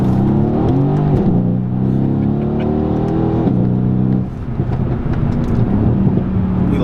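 A Mercedes C63s AMG Coupe engine revs hard and loud under acceleration, its pitch climbing steadily, dropping briefly at a gear change, then rising again, with wind noise over the steady engine roar.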